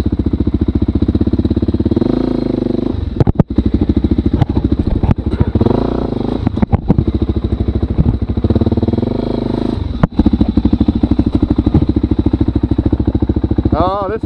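A motorcycle engine, just started on choke, runs with a steady loud idle and a rapid even chug, blipping up briefly a couple of times, with people talking over it at close range.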